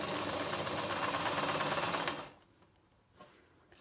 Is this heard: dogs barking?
no